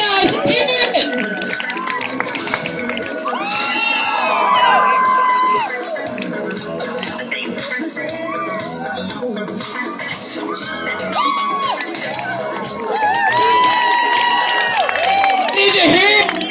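Loud crowd cheering, whooping and shouting carries through the whole stretch, swelling at the start and again near the end, with scattered children's shrieks mixed in.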